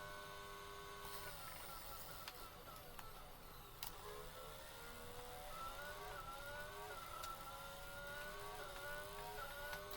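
A Formula 1 car engine in the F1 22 video game, revving up and down through gear shifts with rising whines, quietly heard under a low steady background hum, no talk.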